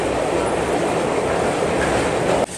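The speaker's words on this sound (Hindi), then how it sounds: "WAG9 locomotive." A passenger train hauled by a WAG9 locomotive rolls along with a loud, steady rumble and clickety-clack heard from inside the coach, and the roar drops off abruptly near the end.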